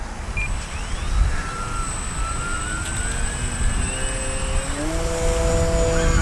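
An FMS Maule 1500mm radio-controlled float plane flies overhead, its small electric motor giving a steady whine that rises in pitch and swells slightly louder toward the end, over a constant outdoor wind-like rumble.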